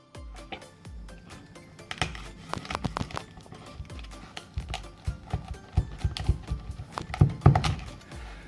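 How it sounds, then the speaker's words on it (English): A knife cuts through hard, dried South African biltong, making a string of sharp crunching and cracking snaps that grow denser and louder toward the end, close up. "So I'm just going to cut this open and have a look."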